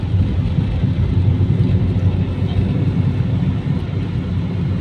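A low, broad engine rumble of an airplane passing overhead near Lucban, Quezon, holds steady and fairly loud throughout, with no clear voices over it.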